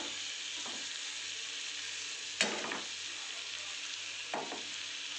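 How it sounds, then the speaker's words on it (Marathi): Eggplant pieces frying in a pan for masala baingan, giving a steady close sizzle with a few brief louder stirring scrapes over it and no talking. "आपले वांगी आता चांगले फ्राय झाले आहेत"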